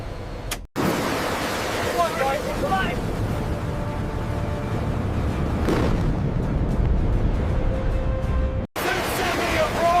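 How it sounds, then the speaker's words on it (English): A B-52 bomber jet engine spools up into a loud, continuous roar with broadband rumble and wind-like rush, steady throughout apart from two brief dropouts. "Engine number 1 turning."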